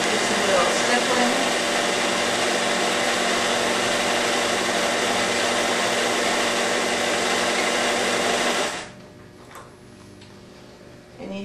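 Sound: quilting machine stippling with DeLoa's Appliguide

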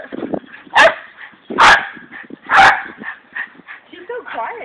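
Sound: dog pup barking and yipping

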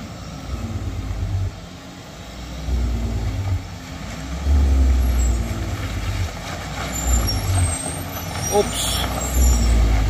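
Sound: trailer truck climbing a hill with air brakes

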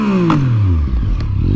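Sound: triple cylinder motorcycle engine revving

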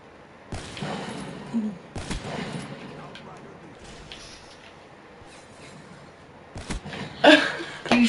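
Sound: gunfire in a multiplayer video game

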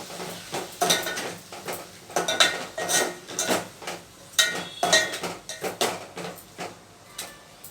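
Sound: stirring fried dal in a pot

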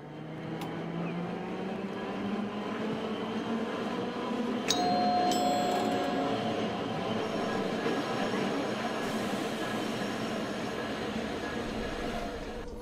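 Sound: tram departing in Tram City Hakodate video game

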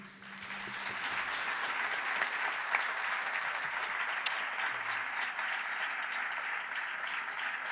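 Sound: audience applause for a flamenco singer

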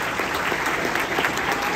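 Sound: audience applause at a graduation ceremony

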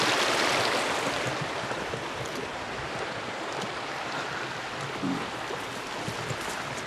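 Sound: water flowing in a forest creek

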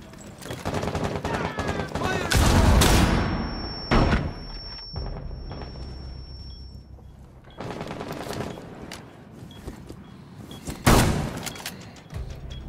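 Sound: gunfire in a video game firefight

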